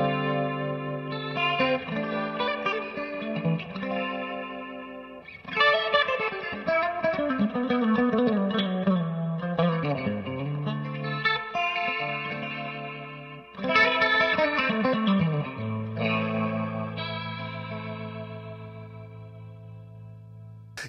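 A Leslie rotary speaker effect from a guitar pedalboard swirls over sustained chords and notes, its warbling chorus-like modulation shifting in speed across a series of loud, reverberant phrases.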